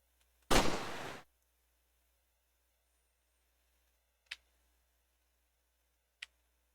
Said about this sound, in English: You heard the gunshot?